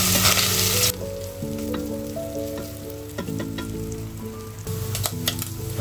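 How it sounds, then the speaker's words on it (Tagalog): Bacon and breadcrumbs fry in butter in a pan for mac and cheese, giving a steady, close, loud sizzle with occasional stirring scrapes and ticks throughout, with no talking. "Pupula-pulahin lang natin ang breadcrumbs at ang bacon."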